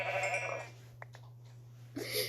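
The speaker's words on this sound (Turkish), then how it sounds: "Koyun." A synthetic sheep bleat sounds briefly over a steady game hum, with a few soft clicks and a bright chime-like burst at the end.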